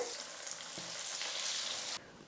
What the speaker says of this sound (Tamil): மீதி இருக்கிற எல்லா பீஸையும் எடுத்து எண்ணெயில் போட்டு நான் ஃப்ரை பண்ணி எடுத்துக்கிறேன்